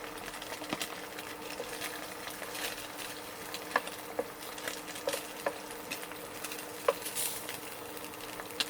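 An egg fries in a pan with a steady, faint sizzle and scattered small crackles and pops over about nine seconds. It sounds close and continuous, with no talking.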